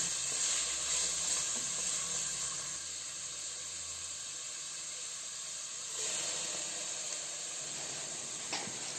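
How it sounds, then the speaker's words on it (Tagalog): Sliced chayote and carrots sautéing in a hot pan, a steady loud hiss and sizzle that settles slightly quieter after a few seconds, with no talking. "Ilagay na din natin ang ating hiniwang sayote at carrots. Ayan, gisahin lang natin yan."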